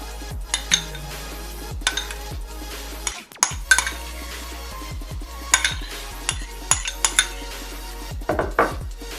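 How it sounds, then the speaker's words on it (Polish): A spoon clinks and scrapes against a bowl while mixing chicken, egg, cheese, olives and mayonnaise, in repeated close, irregular knocks throughout. "i wszystko mieszam ze sobą."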